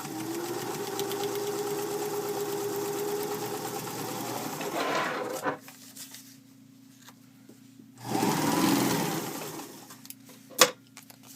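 A home sewing machine stitches across foundation paper piecing, running steadily for about five seconds, then a pause with faint handling, a second short burst of stitching, and a sharp click near the end.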